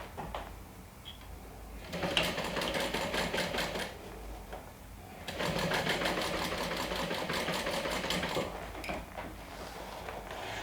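Sewing machine running a straight stitch on a fabric wand holder, two bursts of rapid, even mechanical clatter of about two and three seconds separated by quieter pauses, close and without speech.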